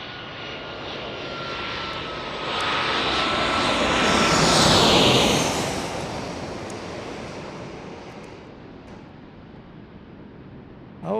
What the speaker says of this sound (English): So this is our O'Hare arrival on American Airlines